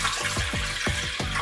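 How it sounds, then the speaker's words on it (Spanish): Water poured into a cooking pot while making chard with potatoes, a steady rushing stream with rising gurgling resonances as the pot fills, close and continuous. "Voy a poner un poco de agua en la perola"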